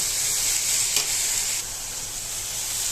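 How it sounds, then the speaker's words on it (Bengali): Fish curry sizzles steadily in a frying pan, a bright continuous frying hiss close to the ear, with a brief stirring scrape partway through before the sizzle settles slightly quieter. "আর অল্প লাড়া দিয়ে দিব।"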